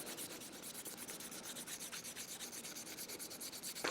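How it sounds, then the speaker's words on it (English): Steady soft rubbing of stropping compound onto a leather strop, a continuous gritty back-and-forth scrape with a faint regular rhythm, close and quiet, ending with a small knock. "you just rub it on"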